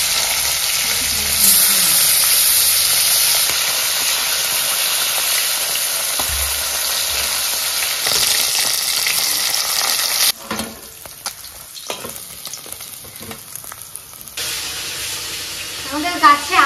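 Fish frying in hot oil in a home kitchen on a rainy day, a loud, dense continuous sizzle that drops partway through to quieter, uneven spitting and crackling.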